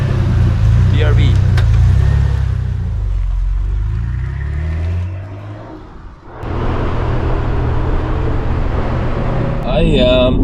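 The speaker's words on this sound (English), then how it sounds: "I am taking my R33 out for a little test driving today." A Nissan Skyline R33 GT-R on a test drive gives a low, steady engine and road drone from inside the car, easing briefly midway before building again, with voices heard near the end.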